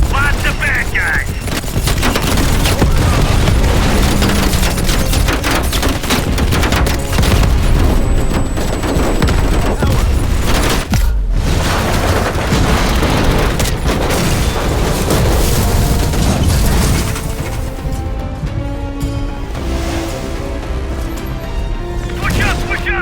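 Loud, sustained gunfire and heavy explosions fill a Call of Duty Black Ops Cold War battle: deep booms and rattling bursts overlap almost without a break, with a short lull before the barrage resumes.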